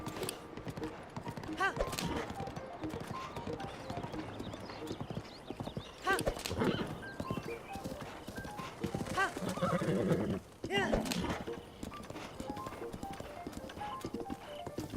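Steady clip-clop of a trotting horse with a couple of whinnies in The Legend of Zelda: Breath of the Wild, game music and faint voices running underneath throughout.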